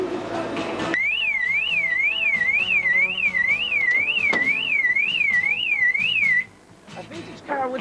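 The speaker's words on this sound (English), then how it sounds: "A vintage car with an alarm." Car alarm on a vintage car at a 2001 run, a loud warbling siren sweeping up and down in steady cycles for several seconds, starting suddenly and stopping, with background noise and voices around it.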